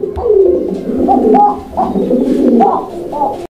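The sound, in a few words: male pigeon cooing call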